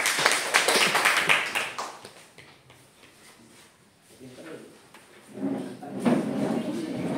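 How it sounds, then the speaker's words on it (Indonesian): A classroom group claps in short bursts, first a fairly loud spell, then a faint lull, then a second round of clapping, with some speech mixed in. "diberikan tepuk tangan dulu"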